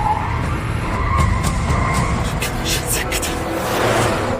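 Car tires skid and screech during a high-speed car chase, a loud continuous squeal with engine noise and rough road roar throughout.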